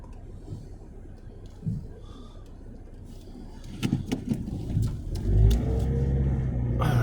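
A car engine idles, then revs up as the vehicle pulls away onto the road, with rumbling road noise growing louder toward the end.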